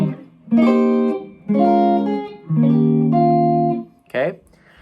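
A guitar plays one measure of a song as a few slow, ringing chords, each left to sustain before the next, ending with a short quick strum.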